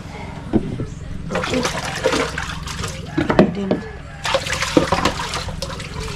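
Water runs steadily from a tap as dishes and other items are rinsed and washed, with splashes and clatters over the flow and a voice talking over it.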